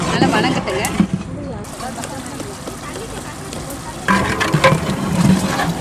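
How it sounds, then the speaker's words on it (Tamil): Tomatoes frying in oil in a large pot for a big batch of mutton biryani, steady sizzling with bursts of stirring and scraping, close by, while a person talks over it. "தக்காளி நல்லா வேகணுங்க, வெந்து நல்லா உடையணும்."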